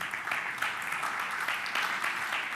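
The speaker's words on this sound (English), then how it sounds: "First of all, an applause for Wahid Fazelly." Applause from a conference audience after a presentation at a geospatial trade fair, a steady, fairly soft patter of many hands clapping continuously throughout.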